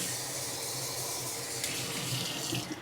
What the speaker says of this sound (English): I'm going to add water just until it reaches 1 cup.